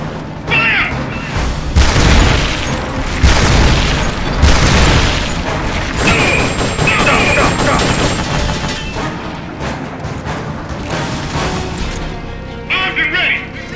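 Loud, dense gunfire and booming explosions fill the Metal Gear Solid: Peace Walker battle almost without pause, with in-game voices shouting over the din.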